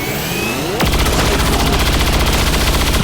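Rapid automatic gunfire bursts at an Andromedon suit in the XCOM video game, with loud sustained rattling fire starting abruptly after a short lead-in and continuing almost to the end.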